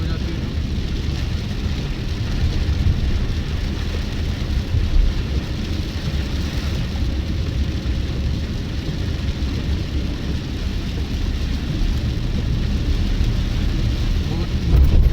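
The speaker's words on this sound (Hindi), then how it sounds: "बारिश भी अच्छी खासी हो रही है" Heavy rain drums on a car driving along a highway, a steady loud roar of water and road noise mixed with engine rumble, while someone talks over it.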